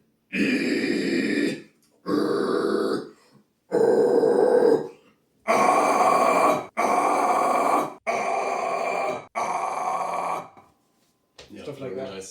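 Seven loud, sustained vocal grunts in a row, each about a second long with short breaths between, a singer demonstrating a gritty, near-metal grunt singing technique.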